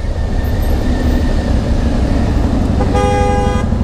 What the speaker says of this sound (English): Look at this guy be honking.